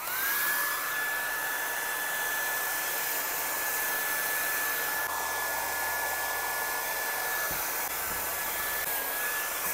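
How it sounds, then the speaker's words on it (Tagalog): A hair dryer blowing hot air over a jar of calamansi spread to seal it, a loud, steady, unbroken fan roar with a faint high whine running throughout. "And then I'm gonna using hair blower."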